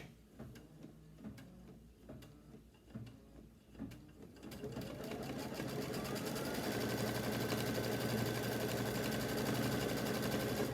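An embroidery machine stitches folded fabric held in a hoop for an heirloom quilt, starting with a few sparse clicks and then settling into a steady, loud mechanical whir with rapid needle chatter that holds to the end.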